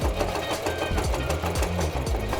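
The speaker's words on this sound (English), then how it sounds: "we're just gonna sew a straight stitch really close to that edge, about 1/8 of an inch" Sewing machine running a straight topstitch close to the edge of sneaker fabric being turned into a corset top, a rapid repetitive mechanical chatter with regular stitch pulses, continuous and near, no talking.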